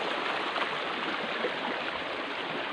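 River water flows steadily in a forest setting, a continuous close rushing and gurgling hiss with no breaks.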